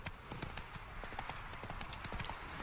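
Horse hooves clip-clop steadily in The Witcher 3: Wild Hunt – Hearts of Stone, a brisk, even run of close hoofbeats over a continuous game background with faint voices nearby.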